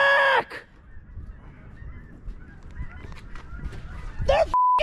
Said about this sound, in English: The geese are back!